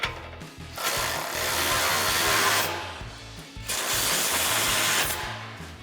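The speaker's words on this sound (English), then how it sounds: "we're going to come in with our 18mm socket and tighten down our hardware" An 18mm socket spins down the mounting bolts of a RedRock Trail Force HD front bumper on a Jeep Wrangler JL, sounding as two long, close, whirring bursts of a powered driver with a short pause between them.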